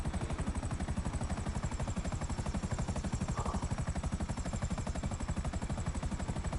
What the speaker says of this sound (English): Why'd you punch the helicopter?